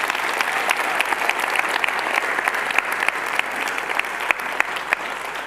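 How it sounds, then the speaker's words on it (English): Steady applause from a crowd, dense clapping throughout at an even level, no voices standing out. "please, another round of applause."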